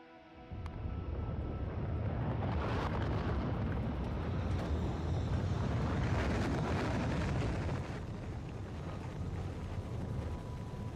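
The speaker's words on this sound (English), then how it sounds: "let's launch another rocket." A rocket launching in the factory-building game Factorio, heard as a loud, sustained roaring rumble that swells within the first second and holds steady for most of the stretch before easing slightly near the end.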